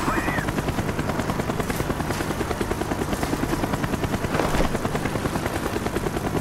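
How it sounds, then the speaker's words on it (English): Helicopter in the video game Call of Duty Black Ops, a loud, continuous rotor thrum with fast rhythmic chopping that stays steady and close throughout. "Avoid the helicopter spotlight."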